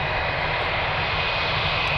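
Lufthansa airliner landing on runway 25R at a freezing Frankfurt airport, a steady, loud broadband engine roar that holds constant throughout, with no voices over it.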